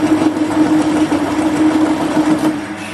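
A lathe takes a hard, interrupted cut with a cheap TCMT carbide insert, giving a loud, steady droning hum with a strong tonal whine and rough chatter, close by and without speech.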